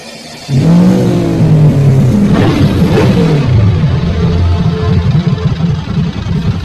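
A cartoon motorbike engine revs loudly, with a deep throaty roar that swells and falls, then settles into a rough, steady drone.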